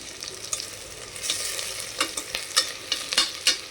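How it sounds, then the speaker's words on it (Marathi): Chopped onion fries in a pan with a soft crackling sizzle as a spoon scrapes through it in a few short strokes, growing busier toward the end, close and fairly quiet with no talk. "कांदा फ्राय केला आहे."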